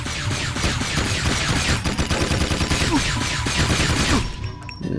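Rapid automatic weapon fire from the Jak II video game, a dense continuous burst of shots lasting several seconds, loud and close, tapering off at the end.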